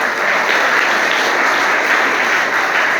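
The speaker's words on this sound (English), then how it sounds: "And his round of applause." Steady, dense applause from a school audience at a prize distribution for a painting competition, filling the whole moment with no pause and no voices over it.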